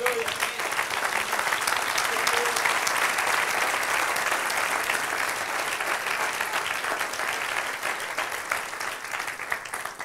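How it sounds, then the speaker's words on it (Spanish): A church congregation claps together in sustained, dense applause that carries steadily through the whole stretch, loud and even with no break. "Quiero un aplauso al Señor"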